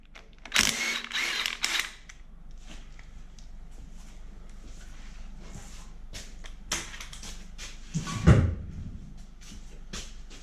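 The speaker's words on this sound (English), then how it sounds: "Next, I'll pull off the harmonic balancer." Parts coming off a 12-valve truck engine during teardown as the harmonic balancer is pulled, with clanks and ratcheting bursts near the start, scattered metal knocks, and a heavier thud about eight seconds in.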